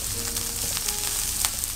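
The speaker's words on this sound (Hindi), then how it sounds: "साथ ही हरी मिर्च को भी एक साइड पे फ्राई करना है" Green chillies shallow-frying in hot oil for Chinese-style chicken fried rice give a steady, close sizzle with faint crackles and no voices.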